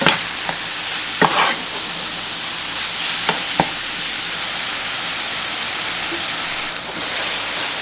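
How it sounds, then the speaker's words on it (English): Seasoned ground meat with salt, pepper and Italian seasoning sizzles steadily in a pan, a constant close crackle with a few sharp scrapes and stirring knocks scattered throughout, no voices. "we're just going to let the meat cook through."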